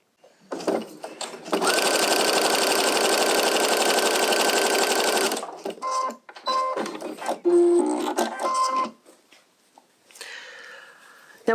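Sewing machine stitching through quilt wadding at a stitch length of 3, a loud steady mechanical run of about four seconds followed by shorter start-stop bursts of stitching, close up with no talk.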